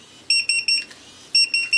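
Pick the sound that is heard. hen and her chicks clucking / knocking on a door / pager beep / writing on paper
pager beep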